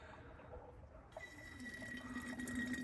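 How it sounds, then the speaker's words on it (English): A hand-pumped fluid evacuator draws power steering fluid out of a car's reservoir, making a faint, close gurgling and sucking of liquid that grows a little louder partway through. "So let's pull the rest of this fluid out."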